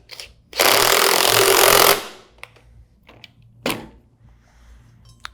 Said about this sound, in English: Install your impeller nut. tighten with your impact.